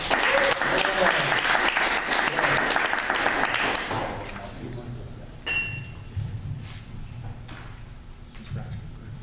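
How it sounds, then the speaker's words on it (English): An audience applauds loudly for a few seconds, then the clapping fades into room noise with a few clinks and faint talk. "Give him a round of applause."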